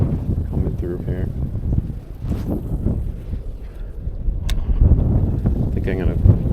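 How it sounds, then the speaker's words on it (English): Strong gusts of wind buffet the microphone outdoors beside a pond while fishing, a rough low rumble surging and easing throughout, with a person talking over it. "Got a big wind blast coming through here."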